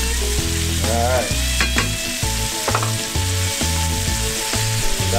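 Deer loin searing in a hot pan, a steady close sizzle and crackle running throughout, with music playing over it.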